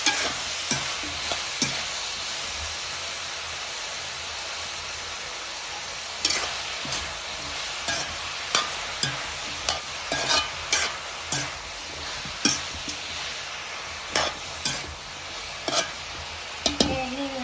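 Vegetables with eggplant, lightly salted, sauté in a pan under a constant loud sizzle. Repeated spatula scrapes and taps punctuate the frying in an uneven rhythm, close by, with no talking.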